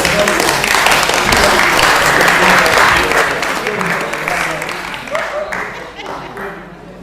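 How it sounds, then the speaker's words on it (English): Council chamber attendees at a full council meeting give a round of applause, steady clapping from a small crowd that gradually fades as voices start to speak. "we should thank Jane with a round of applause"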